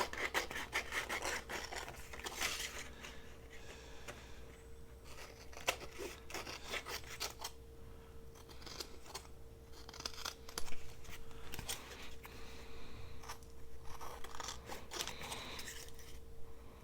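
Scissors trimming excess off a painted paper craft tag, a run of close, quiet rubbing snips and rasping cuts with a faint steady hum underneath and no talk.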